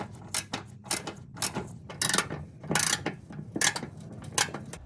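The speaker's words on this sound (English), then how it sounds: "To access them, you'll need a 10mm socket on a long extension." A ratchet fitted with a 10mm socket on a long extension works recessed nuts on a Lexus GS headlight, giving bursts of quick close clicking separated by short pauses, fairly quiet.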